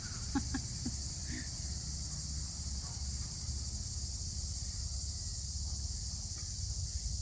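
Crickets chirp in a constant high-pitched drone, with a few brief faint bird-like chirps near the start over low background rumble.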